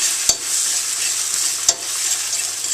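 Eggs scramble in a regular steel pan on residual heat, giving a soft steady sizzle with two sharp scraping knocks of a utensil moving them around.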